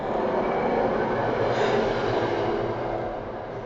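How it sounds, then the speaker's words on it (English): A train passes close by a house, a loud, steady rumbling roar that swells slightly in the middle and eases toward the end, with no voices. "as usual, the train is passing by my house"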